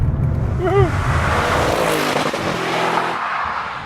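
A 2014 Audi RS7 drives at high speed on the German Autobahn, a steady loud rush of engine, tire and wind noise running unbroken throughout, with a voice talking over it.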